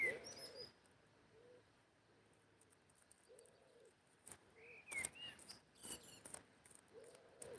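A turtle dove coos outdoors in France, a few soft rounded calls spaced apart at moderate distance, mixed with faint chirps and brief noise bursts.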